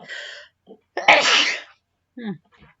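A close, loud sneeze after a brief breathy sound, followed by a short voice murmur and quiet.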